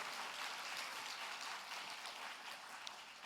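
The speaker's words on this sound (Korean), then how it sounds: "박수로 축복합니다" A Korean church congregation applauds in blessing at a Sunday service, a soft, even wash of many hands clapping at a distance, steady throughout.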